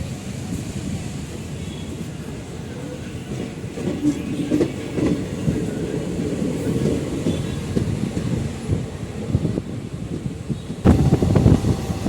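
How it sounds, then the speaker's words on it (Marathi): A double-decker superfast express on the Ahmedabad–Mumbai Central route rushes past a station, heard from a passenger train as a steady, loud rumble and rattle with a louder burst of clatter near the end, no talking. "आता जी गाडी गेली ती मित्रांनो Ahmedabad Mumbai central double superfast express"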